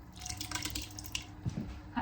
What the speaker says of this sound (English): And I will rinse out the cans with some water.